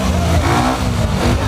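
A motorcycle engine revs hard up close, a loud continuous snarling roar with no pause.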